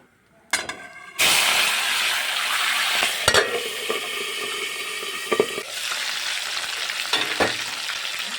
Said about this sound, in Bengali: এবার আমি মাছগুলোকে এর মধ্যে ছেড়ে দেবো মাছটা কিন্তু ও প্রচুর পরিমাণ ফাটবে